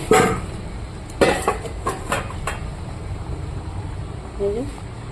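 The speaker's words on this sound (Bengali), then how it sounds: "এবার আমি ভেজে রাখা মাছগুলো দিয়ে দেব" Pieces of fried fish dropped into a pan of Bengali fish curry with vegetables, a few sharp clattering clinks and thuds of utensil on pan in a short burst, then quieter stirring noise; a voice speaks briefly near the end.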